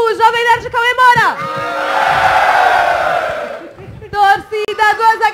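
Fans in a live event audience at a nerd-themed spelling contest cheer and roar together for a few seconds, a loud, broad crowd swell, with a speaker's voice before and after it.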